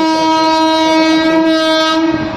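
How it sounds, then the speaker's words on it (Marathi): A train passes near a national highway, its horn blaring loud and steady with rich layered tones for the whole stretch, wheels rumbling underneath and fading slightly at the end. "अरे ट्रेन आली."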